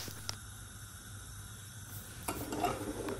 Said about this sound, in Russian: Я нарезаю лук и обжариваю его на сковородке до золотистого цвета.